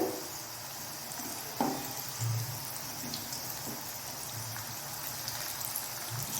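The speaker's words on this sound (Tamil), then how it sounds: "தவாவில் ஃப்ரை பண்ணுறது சூப்பராக இருக்குது" Raw banana slices coated with chilli powder and sesame oil fry on a hot tawa griddle, giving a steady close sizzle with faint scraping as the pieces are turned.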